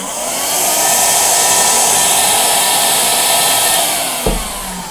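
A small Michelin compact car vacuum cleaner motor whirs steadily at a high pitch, cutting off abruptly with a brief thump near the end.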